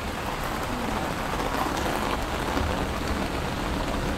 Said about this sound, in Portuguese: A chuva apertou um pouquinho, a gente parou.